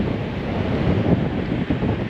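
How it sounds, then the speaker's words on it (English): Constant roar of ocean surf and gusting wind on the shore by the Bandon sea stacks in Oregon, heavy wind buffeting the microphone, dense and loud throughout with no distinct breaks. "The wind really isn't helping. It's pushing the waves a little further on shore."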